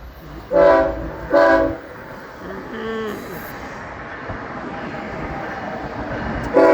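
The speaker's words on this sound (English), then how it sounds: "here comes the train" A train on a railway bridge over the San Sebastian River sounds two loud horn blasts early on, then a steady rumble of rolling cars continues as it passes nearby, with a brief tonal squeal midway.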